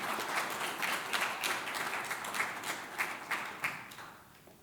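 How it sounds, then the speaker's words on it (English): Audience applause at the Twenty in Their 20s 2021 honors event: a crowd clapping steadily, loud and sustained, then tapering off toward the end with no talk over it. "Please give a big round of applause for Carmen Malia."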